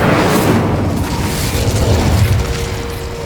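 Incendio fire spell cast in Hogwarts Legacy, a loud whooshing, rumbling burst of flame with a deep roaring low end that swells and then slowly fades over a few seconds.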